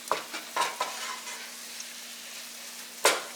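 Onion frying in a very hot frying pan, a low steady sizzle broken by a few sharp stirring scrapes near the start and one near the end, close and fairly quiet.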